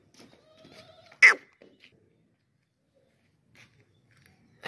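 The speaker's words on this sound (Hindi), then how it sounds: "और ये बकरी है और ये इसका बच्चा है" A goat and its kid at a livestock sale: one sharp, loud bleat stands out, then a second begins at the end, with faint shuffling and scattered quiet sounds between.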